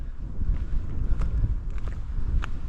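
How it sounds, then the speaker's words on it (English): Wind gusts outdoors in the Scottish Highlands, a low, steady rumble buffeting the microphone, with a few faint higher taps scattered through it. "with the wind following us, blowing the cloud along"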